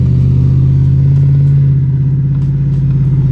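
A Chevy Silverado pickup with a fixed rear wheel rub drives along, its engine a steady loud low hum with a faint rise in pitch, heard close from inside the cab, with no talk.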